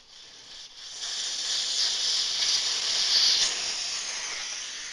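Air hissing steadily out of a BMW R1300GSA motorcycle tire once its valve stem core is removed, a close, continuous bright hiss that starts softly and swells to a strong, even rush.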